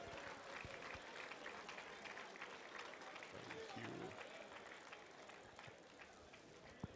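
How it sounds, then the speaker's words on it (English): An audience applauds the Governor of Bayelsa State at a 2024 Workers Day celebration: dense, sustained clapping from a large crowd fills the whole stretch at an even level, with voices mixed in. "A round of applause now. Put your hands together for him."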